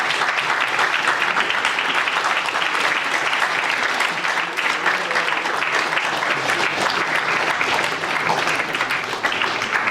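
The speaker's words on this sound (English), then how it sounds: "could everyone join me in another round of applause for Robbie Lyle?" Audience at a Durham Union Q&A applauding the fan-media speaker Robbie Lyle, sustained loud clapping that fills the hall evenly for about ten seconds.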